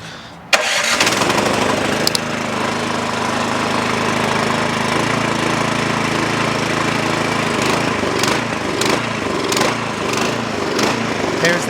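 A small engine on a snow blower or lawn mower starts abruptly and runs steadily at close range, its throttle raised into a constant higher drone with a few clicks and knocks near the end.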